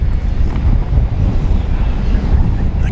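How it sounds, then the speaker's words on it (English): Strong night wind at DFW Airport buffets the microphone, giving a steady, loud, rumbling roar that holds without a break. "the wind is blowing so intensely right at the moment"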